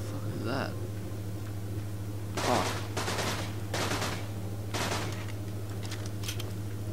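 Several short bursts of rapid weapon fire from the video game Borderlands 2 crackle over a steady low hum, spaced a second or so apart, with a voice talking in between.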